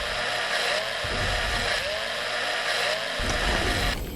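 A Dremel rotary tool drilling in the game Breathedge, a loud, harsh, continuous grinding buzz with small shifts in pitch and load and no pauses.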